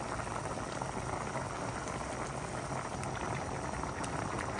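Covered pot of chicken, carrots and mushrooms boiling, a steady, soft bubbling simmer heard alone throughout.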